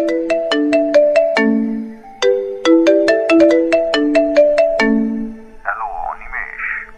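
A phone ringtone plays a bright repeated melodic phrase of short bell-like notes, loud and close, pausing once before repeating, then ending in a warbling electronic tone.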